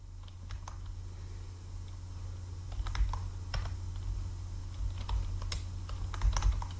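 Urdu text being typed on a computer keyboard in InPage, a close, fast run of irregular keystroke taps over a low steady hum.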